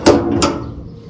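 A house door is pushed shut with two quick knocks close together, a sharp thud followed by a second bang that rings and fades, loud and near, with no talking.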